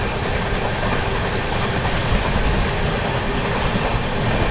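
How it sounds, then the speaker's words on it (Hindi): UP Sampark Kranti Express from Hazrat Nizamuddin toward Manikpur passing at slow speed, a loud, steady rolling rumble of wheels on rails that holds for the whole stretch, with no talk. "सामने से आ रही है आप लोगों की हज़रत निज़ामुद्दीन से चलकर मानिकपुर की ओर जाने वाली उत्तर प्रदेश संपर्क क्रांति एक्सप्रेस"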